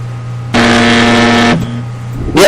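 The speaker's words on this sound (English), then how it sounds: "I think our timer's about to run out here." A podcast timer buzzer sounds once, a loud, steady harsh drone lasting about a second against quiet background hum, then cuts off abruptly.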